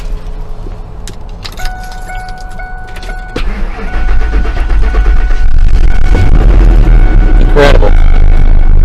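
A car that has sat unused for five to six months cranks and fires up after a jump from a portable Bolt Power booster, opening with faint clicks and key jingles, then a loud, steady engine running close by.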